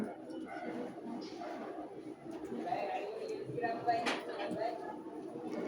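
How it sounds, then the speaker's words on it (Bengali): Pigeons coo softly on a rooftop garden where chickens are also kept, faint and mixed with nearby talking voices. "কবুতর আছে এখানে।"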